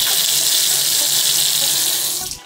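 Bathroom tap running at full pressure, a loud, steady hiss of water pouring into a sink that stays constant before cutting off abruptly at the end.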